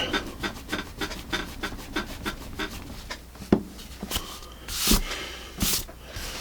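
Pencil's attached eraser rubbing back and forth on paper in a steady series of short, close, dry strokes, followed by a few louder scuffs near the end.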